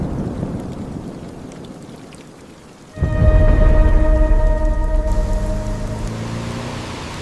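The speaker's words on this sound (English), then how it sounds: "only darkness, and the sound of rain" Steady hiss of rain at first, then a sudden loud surge of heavy rain with a low rumble and a sustained tonal hum over it, continuing to the end.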